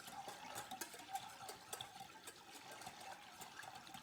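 Vinegar brine for pickled eggs gets a quick stir, faint light sloshes and soft clinks repeating in an uneven rhythm, close and quiet.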